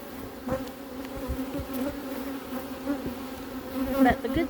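Honeybees buzz steadily close by during a hive inspection, where honey is running into the colony, a continuous dense hum with no talking.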